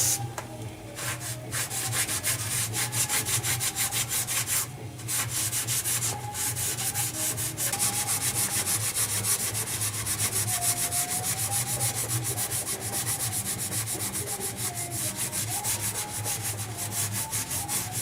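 A rag soaked in brake parts cleaner is rubbed steadily over the rear axle of a 2005 Dodge Ram 1500 Hemi, producing continuous close scrubbing strokes for the whole stretch, with no talking.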